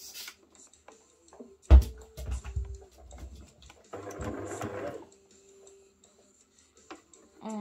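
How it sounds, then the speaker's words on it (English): Sewing machine stitching along the edge of pre-cut fabric for a leather-design cushion cover, a short whirring run of stitches amid quiet handling noises, close and moderately loud. "I'm gonna sew the edge of the fabric what we pre-cut."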